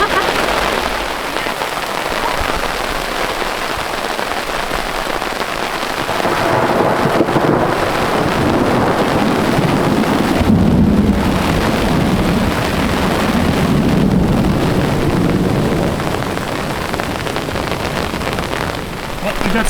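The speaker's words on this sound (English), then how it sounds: "Thunderstorms." A thunderstorm with heavy rain near the Tetons, a constant loud hiss of rain with deep rolling rumbles of thunder swelling in the middle.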